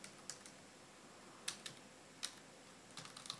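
Keys tapped on a computer keyboard while typing a Linux command: faint, sparse clicks, a few isolated taps and then a quicker cluster near the end, over a quiet background.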